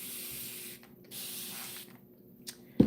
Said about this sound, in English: I'm glad I had this spray bottle here.